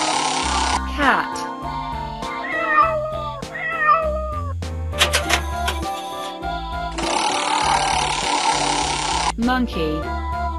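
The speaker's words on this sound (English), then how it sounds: "Cat." Cartoon cat meows come in a few quick, rising calls over bouncy electronic children's-game music, with busy mechanical-sounding effects.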